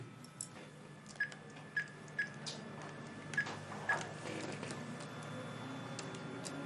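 Several short beeping tones of a telephone keypad sound at irregular intervals as a number is dialed, faint over a steady room hiss, followed by quieter handling noises.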